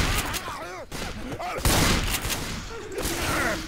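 Rapid bursts of gunfire in the zombie shooter game Left 4 Dead 2, dense and close, with overlapping shots and chatter from players running throughout.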